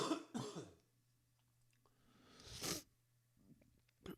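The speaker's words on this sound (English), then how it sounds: "Coughing all the phlegm out of the delta quadrant of my lungs." Two bursts of phlegmy coughing at the start, then a harsh throat-clearing cough midway and a short one at the end, close and loud with quiet gaps between.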